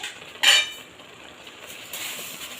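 Sugar spooned into a pan of bottle gourd halwa gives one short, bright metallic clink and scrape near the half-second mark, followed by a faint, quiet rustle in an otherwise still kitchen.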